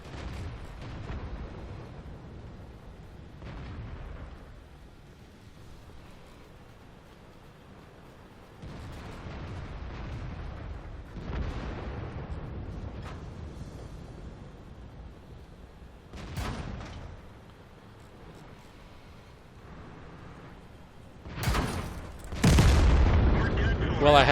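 Tank cannon shots in a World of Tanks match, including fire from a Jagdpanther, heavy booming blasts recurring every few seconds amid battle noise, with a player talking throughout and a very loud close blast near the end.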